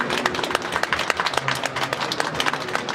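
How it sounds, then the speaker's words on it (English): An audience at a cosplay convention panel breaks into lively applause, a dense run of many hands clapping with a few sharper close claps standing out, sustained evenly throughout. "So I'd just like you all to give all these amazing people an amazing clap."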